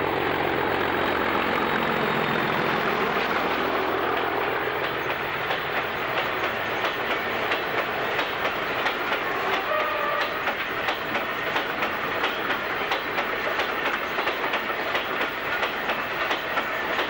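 British Rail class 45 diesel locomotive passing with a train, a loud sustained roar and rumble with steady clickety-clack of wheels over rail joints, building and holding as the carriages go by.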